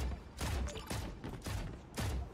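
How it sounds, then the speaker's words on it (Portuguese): Rapid bursts of turret gunfire in the video game Creative Destruction, several loud rattling volleys in quick succession with no talk. "Olha lá o cara tomando a torretada, olha lá."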